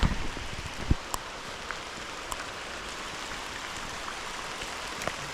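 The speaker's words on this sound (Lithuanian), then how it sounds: "Oho, kaip lyja, matot?" Rain falls on a riverbank during a fishing trip on the Šešupė, giving a faint, steady hiss with occasional sharp drip ticks and no voices.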